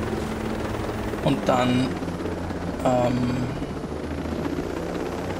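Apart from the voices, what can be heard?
helicopter in video game Ghost Recon Breakpoint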